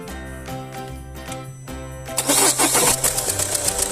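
A Peugeot 508 with a 2.0 HDi 163 hp diesel engine cranks briefly with a rhythmic starter whir, then catches and roars into a loud, clattering idle close by.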